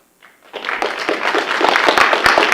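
Applause from the audience at a city Planning & Development council meeting starts quietly and swells into steady, dense clapping that fills the room for a couple of seconds.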